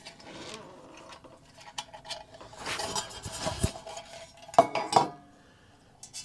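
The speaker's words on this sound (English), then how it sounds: "into these wire little holes right here on the side of the cup, and you clip them in." Wire handles clipped onto the sides of a metal cup from a military surplus haversack: a run of small metallic clicks, scrapes and light clinks, close and moderately loud, with two sharper snaps near the end and no talk.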